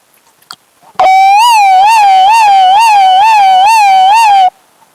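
Someone mimics an ambulance siren with a fast, steady up-and-down warble, loud and close, lasting a few seconds before stopping abruptly.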